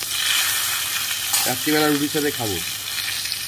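Small eggplant pieces frying in hot oil, a steady close sizzle running throughout beneath a brief spoken remark.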